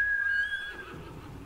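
A horse in the video game Ghost of Tsushima gives a single short, loud whinny with a bright, sustained tone that fades out, heard on its own.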